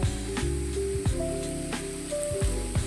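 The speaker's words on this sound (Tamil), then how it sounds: "இப்போ நல்லா பாருங்கள், வெங்காயம் வந்து நல்லா வதங்கிடுச்சு." Onions sizzle and fry in a pan for an egg curry, a bright continuous hiss with crackling spatters, close and steady, and no talking.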